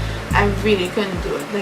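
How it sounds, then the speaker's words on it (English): An electric fan whirs steadily in the background as a constant airy hum, running beneath a person speaking close up. "So just excuse the fan noise in the background."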